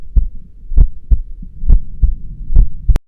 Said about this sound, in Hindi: मीरा का दिल जोर जोर से धड़कने लगा।